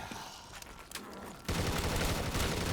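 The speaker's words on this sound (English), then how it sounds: "The underwater rifle." Rapid underwater rifle fire in the Call of Duty Cold War zombies mode, a sustained loud burst of dense automatic shots beginning partway through after quieter game ambience, with no talk.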